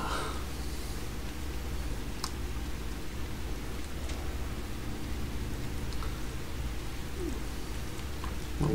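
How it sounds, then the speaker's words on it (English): Steady rain hiss in the Radiophobia 2 mod for a shooter game, an indoor downpour at a bandit base, broadband and continuous throughout with faint scattered clicks and no voices. "It's like it's raining inside."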